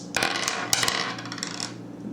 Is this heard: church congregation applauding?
no